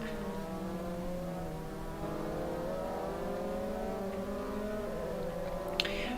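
A race car accelerates hard on the Algarve circuit, its engine note climbing steadily in pitch over several seconds as it pulls away, loud and continuous with no voices.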